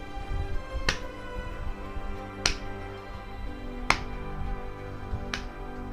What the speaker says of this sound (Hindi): पूरा ताली बजाएंगे